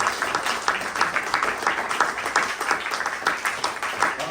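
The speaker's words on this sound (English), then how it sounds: "let's give another round of applause here for this" An audience at a film screening and panel discussion applauds, steady dense clapping from many hands at moderate loudness, sustained without pause.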